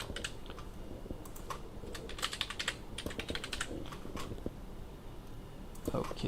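A password is typed on a computer keyboard in scattered bursts of close, crisp key clicks, with someone talking over the tapping.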